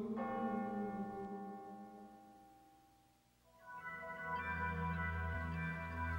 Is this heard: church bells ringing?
yes